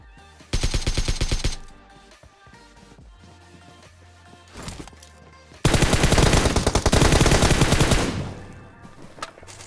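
Automatic weapon fire in PUBG Mobile comes in two loud sustained bursts, rapid and close, with sparser shots and game sounds between them.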